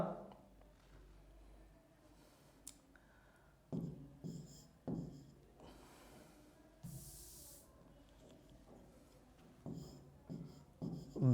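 Pen writing an example sentence by hand during an English lesson, soft scratchy strokes in short bursts with pauses, close and quiet, and the start of speech in the clip.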